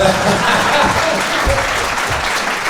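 An audience claps through the whole moment, a steady burst of fairly close, loud applause with a voice briefly audible beneath it.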